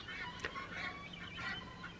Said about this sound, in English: ducks and stuff quacking.